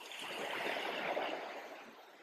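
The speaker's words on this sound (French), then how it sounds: "avec le bruit des vagues, vous allez entendre parce que c'est vrai que c'est assez fort" Waves washing onto a beach in Sardinia make a steady, broad rushing wash that swells and eases over about two seconds, fairly quiet and with no voices over it.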